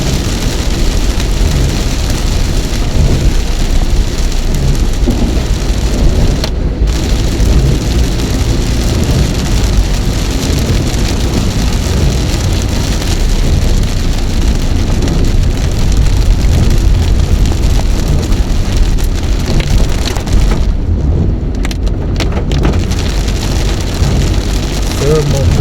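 Heavy rain pours steadily onto a highway at a toll exit in Bekasi, a dense, continuous roar of water with passing traffic mixed in, loud and unbroken throughout.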